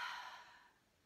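A single audible exhale during a guided breathing exercise in a face-smoothing workout, a soft breathy rush that starts strong and slowly fades away, close and alone with no talk.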